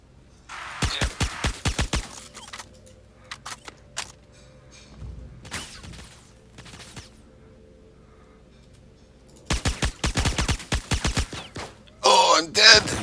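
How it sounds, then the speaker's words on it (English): Sharp gunshots ring out in Star Citizen, two clusters of rapid rounds separated by a quieter stretch with scattered single shots, ending in a harsher burst, with brief talk in between. "You shot me"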